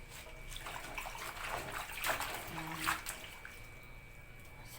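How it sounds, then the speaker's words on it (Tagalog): Sliced garlic, onion and long chilies are washed in water: soft, irregular splashing and sloshing in a bowl, close and fairly quiet, with a faint steady hum behind it. "Tapos ito hugasan ulit natin."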